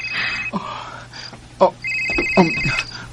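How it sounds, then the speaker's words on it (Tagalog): An incoming call sets a telephone ringing in repeated electronic trills with short gaps between bursts, heard under people talking in the foreground. "Han, si Dina nanawag. Tubagon na ako, ha?"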